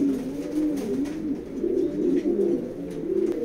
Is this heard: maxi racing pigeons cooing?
yes